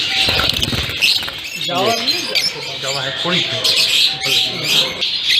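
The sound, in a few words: lovebirds calling in a breeding setup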